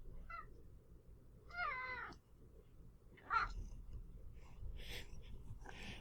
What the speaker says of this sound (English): I love your cat.